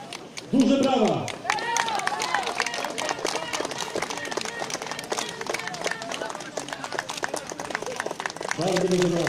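A crowd at an awards ceremony with the Polish president claps steadily and densely for several seconds while voices talk over it.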